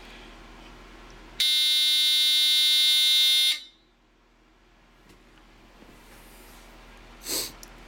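A smoke alarm from a collection, like an older black-horn unit, blares a loud, steady harmonic tone for about two seconds and then cuts off abruptly, followed by quiet room noise.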